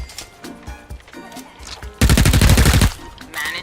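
Rapid burst of gunfire from the VR fruit-shooting game Shooty Fruity, a dense loud volley lasting under a second, set among quieter game sounds and music.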